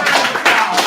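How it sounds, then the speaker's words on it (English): Class audience applauding in a short broadband burst of claps at a lively fitness class, loud and close. "Let's give them one more big round of applause."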